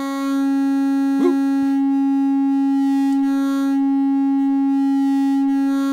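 A Eurorack synthesizer patch runs a steady, loud wavefolded tone rich in stacked harmonics, holding one pitch throughout with a couple of brief glitchy clicks near the start, hinting at clipping distortion.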